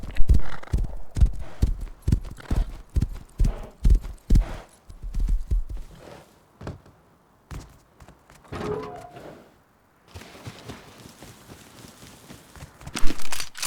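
Video game horse hooves clip-clop in a steady trot, loud and close, then fade out; a horse whinnies briefly before a softer stretch of background noise.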